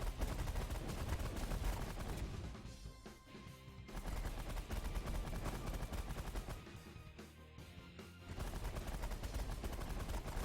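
Ship turrets auto-firing on a pirate base in The Last Federation, a dense, continuous clatter of rapid weapon fire that dips briefly twice before resuming, loud and steady throughout with no voices.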